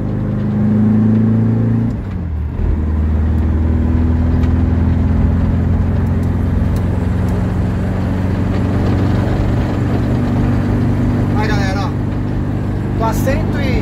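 A Volkswagen Kombi van fitted with a Subaru 2.5 engine drives along a highway, its engine humming steadily and close inside the cabin, with a brief dip in load as it shifts.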